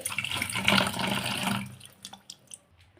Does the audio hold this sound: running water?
yes